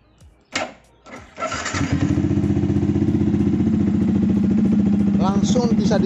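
A motorcycle engine, its fuel injector just cleaned, cranks with a couple of short bursts and catches on the second try, then settles into a loud, steady idle that runs close and continuous to the end.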